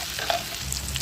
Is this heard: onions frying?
yes